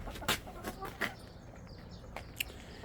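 Chickens in a homemade coop built at a workplace, raised for eggs from spent laying hens, with a few soft, brief clucks spaced apart over a low, quiet background.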